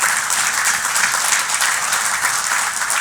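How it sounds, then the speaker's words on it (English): Sustained applause from guests at a charity golf tournament for food security, honouring the event staff; dense, steady clapping fills the whole stretch at close range with no speech over it. "let's give our staff a round of applause as well"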